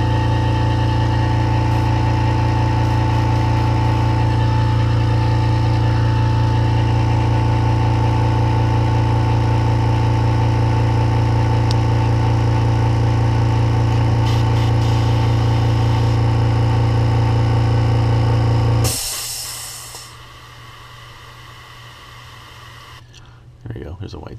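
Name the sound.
air compressor running during lure painting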